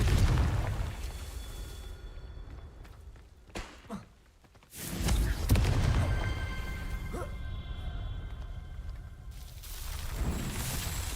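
Booming Confringo spell blasts from Hogwarts Legacy: a heavy explosion rumbles at the start, a quieter lull with a couple of small pops follows, then another strong boom erupts and trails off into lingering rumble.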